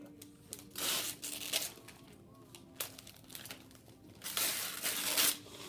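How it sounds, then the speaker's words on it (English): Christmas presents are unwrapped, with wrapping paper crinkling and crumpling in irregular bursts and some rustling rips, close and moderately loud, and a faint voice at times. "Let's unwrap all of your presents"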